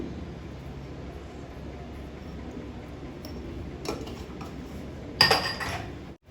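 Pasta with a pinch of salt is stirred in a pan over a quiet background, a few light scrapes giving way to a sharp metallic clink and scraping clatter of the spoon near the end.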